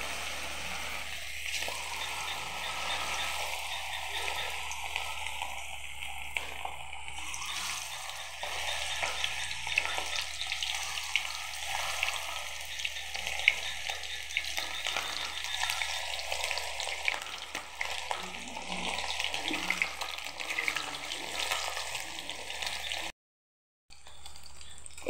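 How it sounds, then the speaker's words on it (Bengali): Chicken wings deep-fry in hot oil in a wok, bubbling and crackling continuously at moderate volume for a long stretch before cutting to a brief silence near the end. "এই যে এগুলোকে ভাজতে দিয়ে দিয়েছি। এরপর এগুলোকে ভালো করে উল্টে দেব, দিয়ে একদম ডিপ ফ্রাই করে নেব এগুলোকে।"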